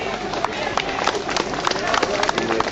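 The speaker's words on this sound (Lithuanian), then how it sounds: "Plojimai Biržams." Audience applause for the Biržai representatives at a gathering of deportees and political prisoners in Ariogala, with dense, steady clapping from a crowd and murmuring voices underneath.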